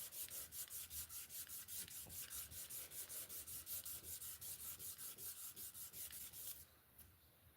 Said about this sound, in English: So I want to sand it this way because then they show up real good.